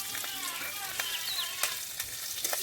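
Green chillies and nigella seeds sizzle steadily in hot oil, a continuous close frying hiss with light crackles and a few soft stirring taps, no talking.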